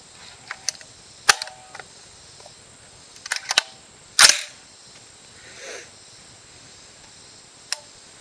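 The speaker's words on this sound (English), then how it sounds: "I'm going to shoot towards the top of the safe since I shot the bottom with the 357." A 7.62x39 rifle fired at the top of a metal safe, with several sharp, sudden cracks and impacts spread across quiet outdoor air, the strongest one midway, plus fainter clicks around them.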